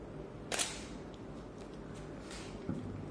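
A camera shutter fires with a Canon 580EX II flash triggered by a Cactus V6 wireless trigger, giving two short, quiet clicks about two seconds apart in an otherwise quiet room.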